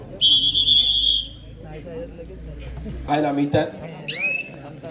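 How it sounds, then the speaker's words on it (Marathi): A referee's whistle at an outdoor kabaddi final blows one sharp, loud shrill blast at the start, then a shorter whistle follows later amid crowd noise and other sounds. "पुन्हा एकदा थोडी समयानंतर पंचांची शिट्टी वाजते"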